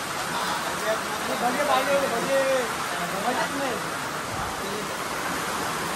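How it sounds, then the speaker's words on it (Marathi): Steady heavy rain hisses continuously while people talk over it. "तुम्ही बघू शकता किती जोराचा पाऊस आलेला आहे"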